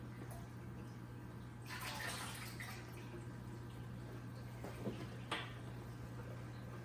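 Two buckets of water carrying 46 juvenile blue marble angelfish are poured into a cube 60-gallon aquarium: a faint, brief splashing gush rising over quiet room hiss, with a couple of small drips afterward.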